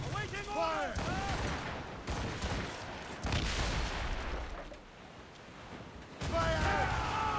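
Naval battle in Assassin's Creed Rogue with volleys of cannon and musket fire crackling in dense bursts, shouting voices over the din and pauses between salvos.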